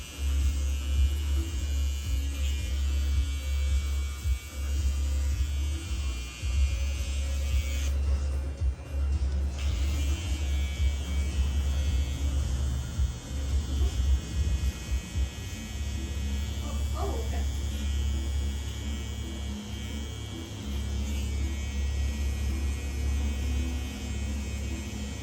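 Electric hair clippers buzz steadily and close up while cutting a very light, low taper into a man's long hair, with a continuous hum that shifts slightly as the blade glides.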